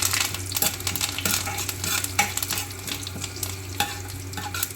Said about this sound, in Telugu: ఇప్పుడు దీంట్లోకి జీలకర్ర, ఆవాలు వేసుకున్నాం